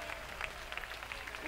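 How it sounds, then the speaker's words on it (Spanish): An audience applauds a Navarrese brass fanfare at a community festival stage, a dense, steady wash of distant clapping from a crowd with faint voices mixed in. "Fuerte, fuerte el aplauso."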